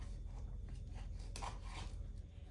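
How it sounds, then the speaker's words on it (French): A knife slices a lime in half, giving a faint, close scraping and rasping cut that lasts a couple of seconds over a low background hum. "On va couper le citron vert en deux."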